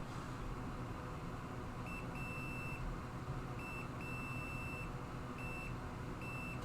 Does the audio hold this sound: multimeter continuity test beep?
yes